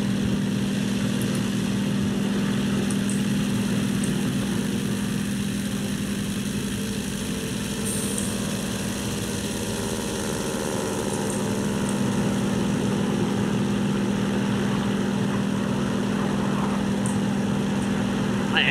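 Aircraft engines running in War Thunder, a steady propeller drone with a strong low hum that holds at an even level throughout, with faint voices at times.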